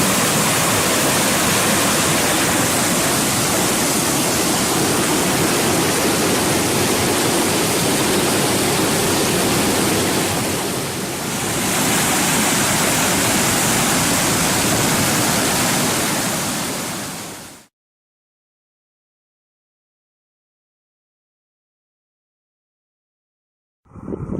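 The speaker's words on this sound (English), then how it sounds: "This is a set of dual falls." A pair of side-by-side waterfalls on a wilderness canoe route roars as a loud, continuous broadband rush for about seventeen seconds, then cuts off abruptly to silence.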